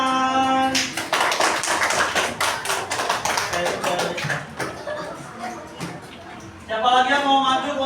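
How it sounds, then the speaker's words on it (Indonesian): Clapping in a classroom: a burst of many hands applauding together, fairly close and loud for several seconds, fading out before voices and bright tonal sounds come in at the end. "Oke, kasih tepuk tangan."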